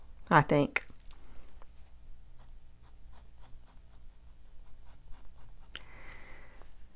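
A fine pen sketching on paper, with light, faint scratchy strokes close up after a brief spoken remark at the start.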